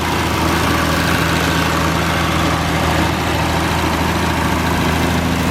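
A restored 1972 Triumph TR6 convertible roadster's engine idles steadily, a loud, even low rumble with constant vibration and no variation in pace.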